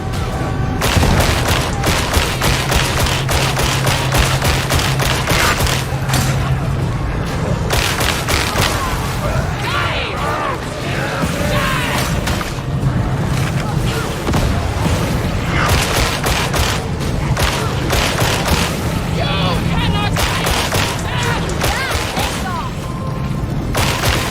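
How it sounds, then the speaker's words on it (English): Grenade blasts in Warhammer Darktide boom amid continuous dense gunfire and clattering combat, loud and close throughout a long, chaotic fight with no clear pause. "Throwing grenade!"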